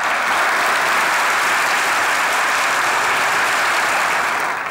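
Thick, continuous applause from a comedy show studio audience, loud and even throughout with no voices on top.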